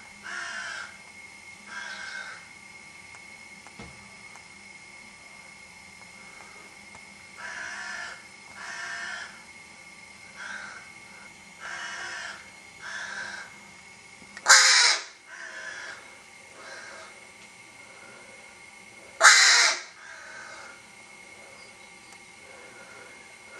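Crows cawing outdoors in a garden, repeated harsh caws in spaced bursts over about twenty seconds, mostly moderate and a little distant, with two louder, closer rasping calls near the middle.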